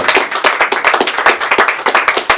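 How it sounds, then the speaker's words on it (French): A church congregation gives a short round of applause, dense overlapping hand claps close by and steady for a couple of seconds, with no talk. "Une acclamation qui semble être un peu timide."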